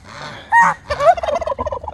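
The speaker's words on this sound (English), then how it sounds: "Sebastian, did you just attack that goose?" A goose calls out loudly during an attack, giving a honking squawk followed by a run of rapid, close gobbling cackles with no talk over it.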